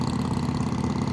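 A Harley-Davidson Iron 883 motorcycle with 65,000 miles idles nearby on a foggy tropical morning in Goa, a steady low rumbling throb with even pulsing and no voices.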